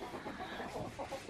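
A broody hen clucks low and continuously, close by, in soft throaty murmurs against steady background noise, with no talking.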